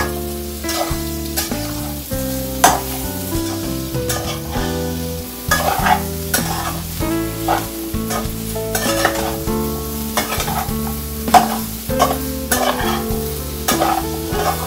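Peppers and chicken are stirred in a hot frying pan, a continuous loud sizzle with rhythmic scraping and clanking of the spatula against the pan throughout, close up, with no talk.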